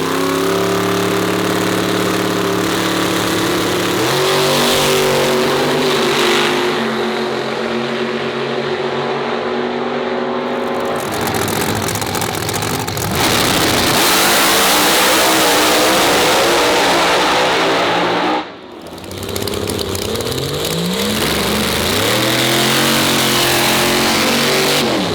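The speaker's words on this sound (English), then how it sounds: "We just want the truck to go down the track, and we added more power in the mid-range" A drag racing truck roars off and accelerates hard down the track, its engine loud and close with rising pitch through several gear shifts, a brief dip, then continued wide-open pull.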